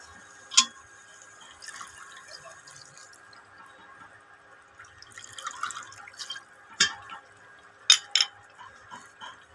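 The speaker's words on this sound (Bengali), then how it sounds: "এবার জল দিয়ে দেবো, সামান্য জল দেবো" A little water goes into a pan of Kashmiri-style potato curry (aloo dum), giving a few sparse, soft drips and splashes spread out over an otherwise quiet kitchen.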